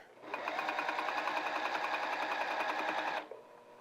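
A sewing machine runs steadily for about three seconds, stitching a seam on a cuddle scarf, with a fast, even mechanical chatter that is close and alone before it stops abruptly.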